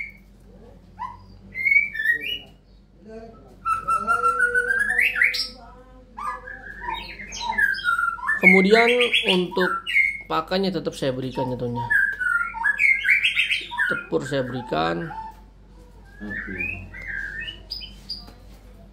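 Bright whistled phrases and chirps of a shama (murai) songbird ring out between stretches of someone talking, the bird calls loud and close.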